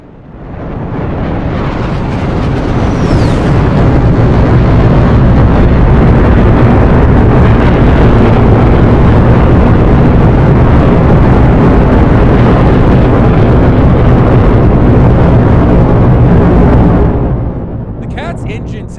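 F-14 Tomcat jet engines roaring on takeoff in the DCS World flight simulator: a loud, broad, sustained roar swelling up over a couple of seconds, holding steady with heavy reverb, then easing off near the end.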